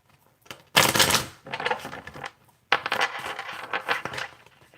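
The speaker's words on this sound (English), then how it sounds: "One more shuffle." Tarot cards being shuffled in two bursts of crisp, rapid riffling and slapping, close and fairly loud, with a quiet pause between them.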